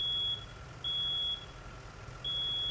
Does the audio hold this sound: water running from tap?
no